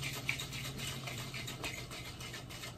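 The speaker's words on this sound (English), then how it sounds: "I'm gonna dry shake." Cocktail shaker being dry shaken with a mix of egg white powder and pineapple tepache, giving a steady, rapid rhythmic rattle and swish close by, continuous for a few seconds with no talking.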